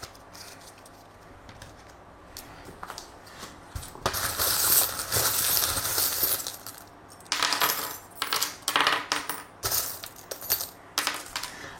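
A tarot reader casts small metal charms, which land as close clinking, rattling bursts, a long jangle followed by several shorter scattered clatters and single taps, with no voices.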